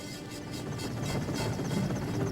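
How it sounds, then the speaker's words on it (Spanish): A helicopter flying over the Andes peaks near Vilcabamba, its rotor producing a steady, even chopping beat with a continuous engine whine, heard alone at moderate distance. "Un helicóptero está trayendo al resto del equipo hasta el sitio en Vilcabamba."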